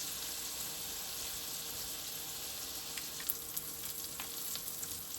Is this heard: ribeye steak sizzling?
yes